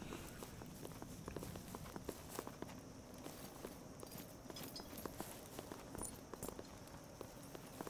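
Horses walking in the video game Expeditions: Rome, a steady run of overlapping hoof clops and footsteps at moderate loudness over a constant ambient game background, with no talk.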